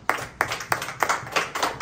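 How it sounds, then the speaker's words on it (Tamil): A church congregation claps in unison, six sharp, loud claps in a steady rhythm, close and without voices. "கைத்தட்டி ஆண்டவரை மகிமைப்படுத்துவோம்"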